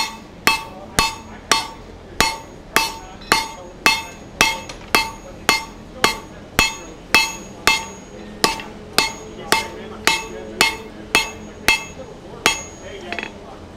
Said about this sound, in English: we can bring it over the horn of the anvil.